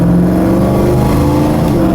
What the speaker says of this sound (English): So this is a big block V8.